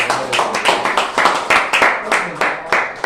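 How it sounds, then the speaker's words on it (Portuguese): Church congregation clapping at a sermon, a run of close, sharp handclaps in an uneven rhythm with a voice faintly mixed in. "Uma salva de palmas ao nome do Senhor"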